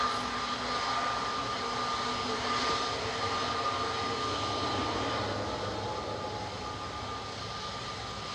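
Aer Lingus Regional ATR 72-600 turboprop departing Manchester Airport, a steady broadband engine roar with a faint sustained tone, constant and fairly distant throughout.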